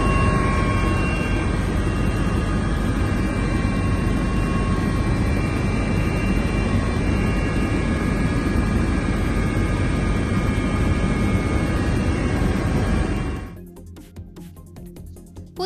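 A helicopter flies steadily overhead, its broad rotor and turbine roar loud and continuous for about thirteen seconds before cutting off abruptly.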